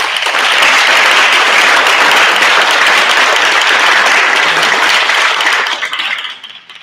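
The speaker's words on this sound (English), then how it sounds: "So I just want to give you guys a round of applause" Audience applause at a school board of education meeting, a loud, sustained round of many hands clapping that fades out at the end.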